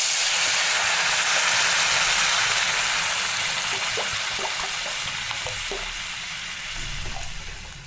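Water is poured into frying broken wheat (dalia) with green chilli, turmeric, salt and grated ginger, raising a loud, broad hiss of steam that slowly fades, with a few faint clinks of stirring near the end.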